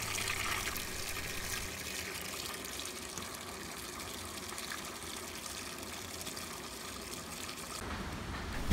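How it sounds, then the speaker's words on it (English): Tap water pours steadily into the tub of a decade-old washing machine during a cleaning cycle, a constant close rushing gush with no pauses or voices. "While waiting for the tub to fill up"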